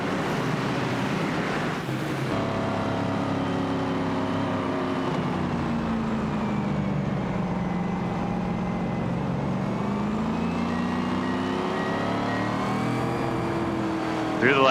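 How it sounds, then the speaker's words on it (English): Stock race cars on the Montreal track idle and rumble together before the start of a Winston Cup Series race, a steady loud engine drone with rising and falling pitch, heard over a crowd. "43 Cumming race cars getting ready for racing here in Montreal."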